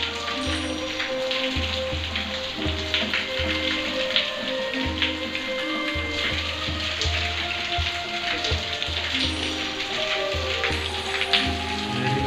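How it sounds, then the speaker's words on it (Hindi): Steady rain patters continuously on a hard surface, a dense hiss of droplets with no voices, lasting throughout. "अचानक से बारिश हो गई।"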